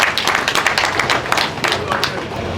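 Audience at a French-language union meeting applauding, with loud, dense clapping from many hands and some overlapping voices throughout.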